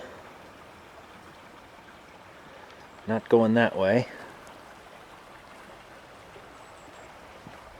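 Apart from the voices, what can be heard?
small creek flowing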